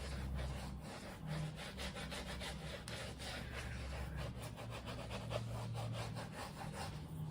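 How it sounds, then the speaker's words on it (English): Soft, rhythmic scratchy strokes of a makeup brush spreading paint for fluid art, repeated back-and-forth rubbing at an even pace, quiet and close, with no talking. "I'm gonna use this makeup brush for like spreading it like this"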